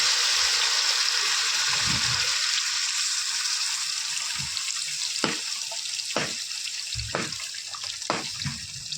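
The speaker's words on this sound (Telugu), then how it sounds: "మనం చింతపండు పులుసు అయితే పోసుకోవాలి" Tamarind juice pours into a pan of fish curry with fried ginger and garlic in hot oil, a steady hiss and sizzle with a few soft knocks and clinks scattered throughout, close and loud.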